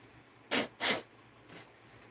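A person sneezes twice in quick succession, two short, sharp, breathy bursts close by, followed by a fainter third puff, with no talking.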